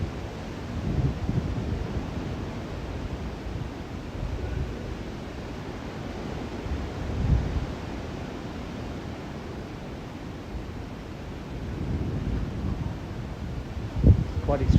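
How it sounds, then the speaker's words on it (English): Strong gusts from Typhoon Podul roar through trees in Taiwan, a continuous broad rushing with swelling surges and buffeting against the microphone, with faint rustling throughout. "I think we're going to get some more big gusts."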